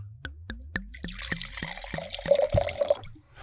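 Wine poured from a bottle into a wine glass: a run of glugging pulses settling into a steady close pour, with the pitch rising as the glass fills and no talking.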